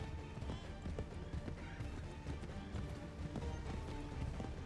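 Steady clip-clop of horse hooves at a running pace in Assassin's Creed 3, rhythmic and fairly close, with a busy game soundscape behind it.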